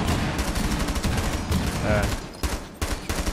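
Rapid gunfire bursts from the tactical shooter Rainbow Six Siege during a ranked match, dense and continuous, with a player talking over the shots.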